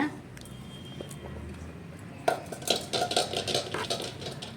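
A spoon scrapes and clinks against a pot in steady stirring strokes, close by, with a faint background hiss, while rice vathal mixture is stirred to a boil.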